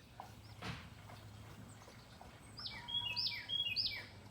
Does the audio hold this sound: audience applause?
no